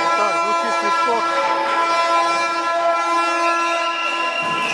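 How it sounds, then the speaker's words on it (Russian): A referee's whistle at a boys' youth volleyball match in the Russian championship sounds as a loud, sustained, shrill tone lasting several seconds. A commentator talks over it throughout. "Так, звучит свисток."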